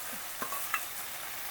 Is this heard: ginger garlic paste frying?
yes